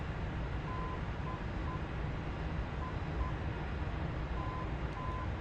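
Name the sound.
Morse code beeps from navigation system, DCS F-4E Phantom video game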